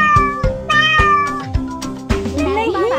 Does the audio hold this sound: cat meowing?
yes